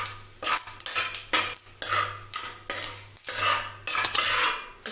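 Curry leaves sputter in hot oil with cumin seeds for a South Indian kootu, cut by rhythmic metal spoon scrapes against the pan in repeated bursts, close and without talk.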